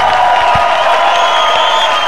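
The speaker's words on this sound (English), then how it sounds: "I think they all deserve an applause." Audience applause and crowd noise at a wrestling show after a tag team lucha match, a steady, dense wash of clapping heard alone for a couple of seconds.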